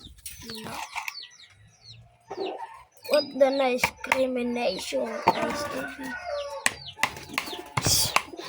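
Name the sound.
pigeons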